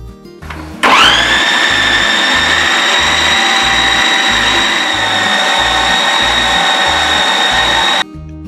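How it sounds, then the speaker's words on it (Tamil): A Preethi Zodiac MG 218 mixer grinder grinds curry masala in its small jar. It starts abruptly into a loud, steady high-pitched motor whine that runs about seven seconds before cutting off sharply. "சின்ன ஜாரில் நான் வந்து குழம்புக்கு தேவையான மசாலா அரைச்சி காமிக்கிறேன்"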